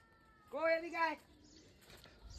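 A cat gives one clear, close meow, drawn out for under a second, in a quiet village setting with a soft voice nearby.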